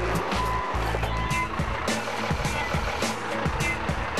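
A tractor strains to pull a bogged truck, engine labouring loudly with a pulsing low rumble as the wheels dig into the ground, with a voice talking over it.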